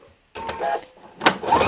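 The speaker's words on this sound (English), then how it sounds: "you're just going to put the pedal to the metal, and you're going to sew, and you're going to stop." Sewing machine stitching through paper, two short mechanical whirring runs with a brief stop between them, close and clear with no talk.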